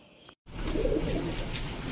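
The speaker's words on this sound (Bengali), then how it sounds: "অনেক সুন্দর কবুতর ভাই।" Pigeons at a Bangladeshi pigeon farm coo close by, a soft throaty burbling that starts after a short pause and continues steadily.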